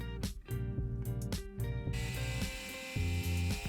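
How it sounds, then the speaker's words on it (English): A small drill works into the rivet post of a Matchbox die-cast 31B American Ford Station Wagon during restoration, giving a high, whining buzz with short bursts and pauses close by. "Then I drill out the rivet post, ready to fit a screw to secure the front."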